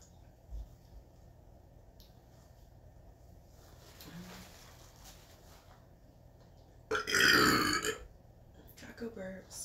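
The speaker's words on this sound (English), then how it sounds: "Taco burps." After eating street tacos, a person lets out one loud, close, drawn-out burp late in the clip, with quieter mouth sounds and breathing before it.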